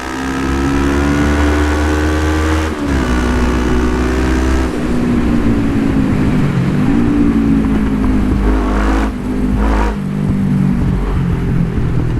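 A loud Kawasaki ER5 motorcycle engine drones steadily with harmonic tones shifting as it revs up and down, the sound full and reverberant, echoing off nearby rocks.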